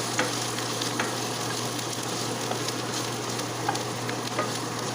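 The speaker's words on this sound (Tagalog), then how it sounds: "Kaya igisa lang po natin yung gulay." Vegetables sautéing in a pan make a steady, dense sizzle throughout, with faint clinks of stirring scattered on top and no voices.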